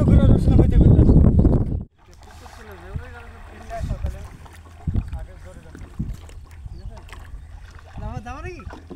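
A small wooden dinghy is paddled across a village wetland in India. A loud burst opens the clip, then comes quieter water movement with scattered paddle splashes and knocks, and voices murmur nearby.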